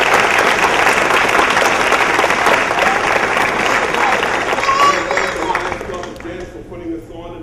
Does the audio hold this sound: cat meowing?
no